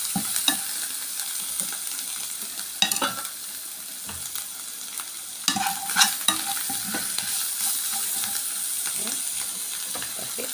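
Coriander fries in a pan as a utensil stirs it, steady sizzle with scraping strokes and clacks recurring throughout, close and moderately loud, with no talk over it.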